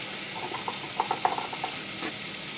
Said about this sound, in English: Oh, my butter is browning.